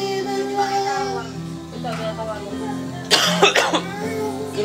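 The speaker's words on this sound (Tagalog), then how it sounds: "Grabe yung ubo." Several harsh coughs burst out close by, loud against continuous background music with singing.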